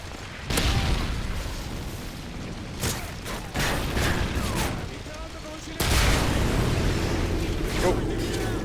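Heavy booms from grenade explosions and bursts of gunfire in Call of Duty Modern Warfare Special Ops Survival mode, three loud blasts about two to three seconds apart, each fading into a rumbling tail, with voices talking over them.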